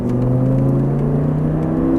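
Audi R8 accelerating on a track, a steady loud engine note with layered harmonics rising gradually in pitch under continuous whirring road and wind noise, close and constant throughout.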